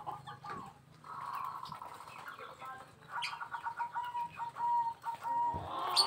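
Zebra doves (perkutut) being readied for shipping call in repeated cooing phrases at close range, with bird chatter and soft rustling underneath throughout.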